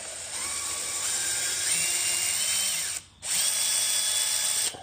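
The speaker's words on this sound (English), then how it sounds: "there's 1, 2, 3, 4, and 5 T25 screws. So I'm gonna go ahead and take these out." A power driver whirs loudly and steadily as it backs T25 screws out of a BMW X7 M50i, its pitch rising and shifting, with one brief stop before it spins up again.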